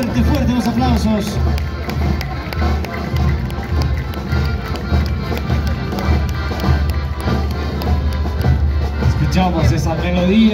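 Scattered claps and taps from a street crowd at the Sacaba torch parade, blended into steady crowd noise and loud band music with accordion, continuing without a break.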